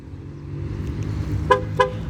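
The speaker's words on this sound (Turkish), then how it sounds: "Aracımızda ikinci kilitte bu şekilde kornalı uyarı yapar." Two short car horn chirps in quick succession as a 2016 Ford Focus locks with a door left open, over a steady low engine idle, no talking.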